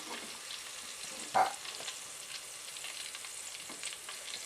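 Green beans frying in hot oil give a soft, steady sizzle and crackle throughout, fairly quiet, with one brief louder pop near the start.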